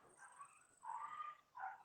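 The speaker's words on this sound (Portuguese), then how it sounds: "os cachorros" A dog barks and yips in three short bursts, faint and somewhat distant, with low whining tones and no talking.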